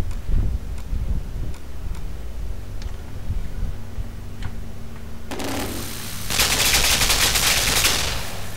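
Gunfire in the video game Limbo, a sharp burst followed by a loud rapid crackling volley after a stretch of faint ticking, heard without voices.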